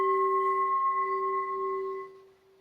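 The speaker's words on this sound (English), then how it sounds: "First, we have Himalayan bowls, and they sound like that." A Himalayan singing bowl rings with a steady, pure sustained tone that slowly decays and fades out. The sound is close and heard alone, with no talk.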